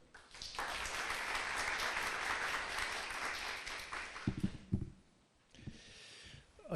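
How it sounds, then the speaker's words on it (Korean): A conference audience in a hall at a generative-AI logistics event claps steadily to welcome a professor to the stage, then the clapping stops, leaving a few thumps and handling noises. "큰 박수 맞아주시죠"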